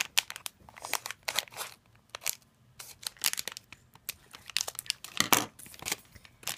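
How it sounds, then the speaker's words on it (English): Scissors cutting open a plastic blind-bag figure pack, a run of crinkling and crunching plastic snips in irregular bursts, close and fairly quiet, no talking. "I'm gonna cut this with the scissors."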